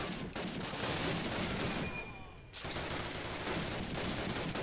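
Dense rapid gunfire in a trench-warfare shooter game, a continuous fusillade of overlapping shots that briefly thins out midway before the heavy barrage resumes.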